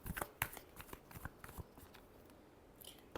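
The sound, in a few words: tarot cards being shuffled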